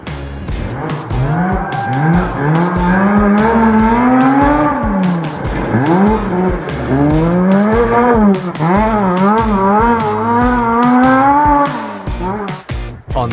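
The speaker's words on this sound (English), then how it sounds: "The 2-wheel drive 50-year-old RX2 was setting a blistering pace." A 50-year-old two-wheel-drive Mazda RX2 rally car at speed on a Coffs Coast Rally stage, its engine loud and close, revving hard and dropping repeatedly as it shifts gears, with no talking.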